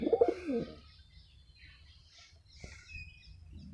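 Pigeons give a few soft, low coos from inside a wet, dirty rooftop coop in the rainy season, with one louder burst at the start and a faint chirp later.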